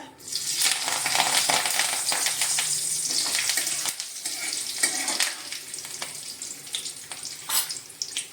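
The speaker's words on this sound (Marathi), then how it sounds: "मोहरी चांगली भाजून झाल्यानंतर आपण त्याच्यामध्ये टाकूया कढीपत्ता" Mustard seeds and curry leaves sizzle and crackle loudly in hot oil in a kadhai for a traditional Maharashtrian vangyache bharit, a dense continuous hiss with sharp pops scattered throughout, close up and without speech.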